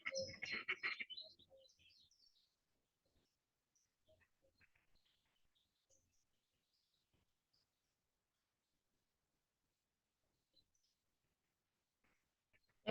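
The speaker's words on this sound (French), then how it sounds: "Écoute aussi les bruits qui sont dans la vidéo autour de moi. Les oiseaux, les insectes," Birds chirp outdoors in a short, busy burst at the start, then only sparse, faint calls break a mostly quiet background.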